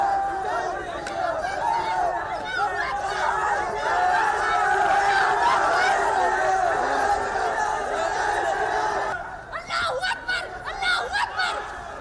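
A large crowd of hundreds of students waving saffron shawls at a college in India chants slogans loudly and continuously, a dense roar of many voices with shouts and some laughter rising near the end.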